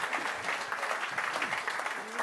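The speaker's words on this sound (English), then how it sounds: "a round of applause for them" Audience applause at a business event on funding and scaling, a dense, steady round of clapping from a sizable crowd filling the whole stretch, with faint voices mixed in underneath.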